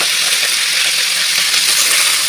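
Mustard seeds, fennel and curry leaves fry in hot oil, a steady, loud, close hiss and crackle of sizzling with no pause.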